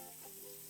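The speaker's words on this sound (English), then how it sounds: "I'm going to add 1/4 teaspoon of chili flakes to my pan. You can hear it sizzling now." Chili flakes sizzling in a hot frying pan, a short burst of steady close crackle and hiss heard alone.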